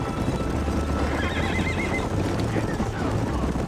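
A horse whinnies loudly in the video game Red Dead Redemption over constant hoofbeats and a dense rumbling background, its wavering neigh rising and falling.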